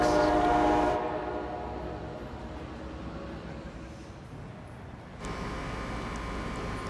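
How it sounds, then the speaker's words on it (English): The Amtrak Coast Starlight passenger train sounds its horn in a loud, close blast for about a second, then a steady rumble of passing cars continues, swelling again near the end. "Next up, we are gonna have Amtrak train Coast Starlight, train number 11, coming up next"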